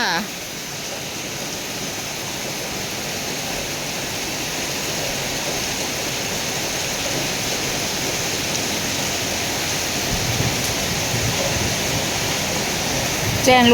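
Steady rain pours down outside a home in rural Thailand, a dense, even wash of noise that holds close and constant throughout, swelling slightly near the end.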